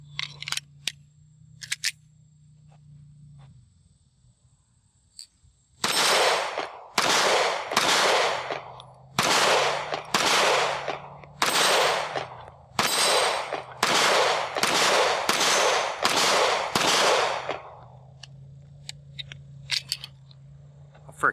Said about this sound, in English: So let's shoot a few rounds through here and we'll see how these shoot